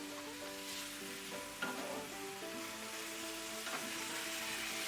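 Onions frying and browning in a pan for Hatch red chile enchiladas, giving a steady, soft, hissing sizzle with faint crackles and a low background hum throughout.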